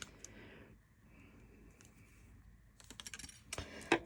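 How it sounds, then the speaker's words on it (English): Clippers cutting off a piece from about six to eight inches of material, a cluster of small sharp snips and clicks close by after a quiet start, ending with one louder snap. "I'm just going to cut some off with my clippers"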